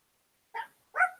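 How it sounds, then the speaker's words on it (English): A dog gives two short, sharp barks about half a second apart, fairly close and clear, with silence before and between them and no talking. "There's a dog. Don't bark."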